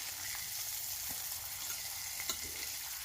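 Christmas morning breakfast sizzles steadily in a hot pan just after being flipped, with a continuous close frying hiss and occasional small pops and no voices.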